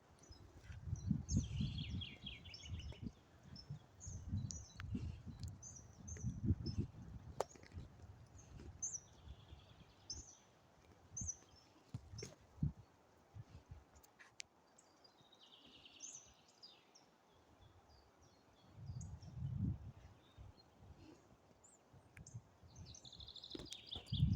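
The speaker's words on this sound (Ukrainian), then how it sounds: "Якісь пташки співають." Birds singing in a forest in spring, faint scattered chirps and short songs at a distance, with soft low rustling and handling noise close by.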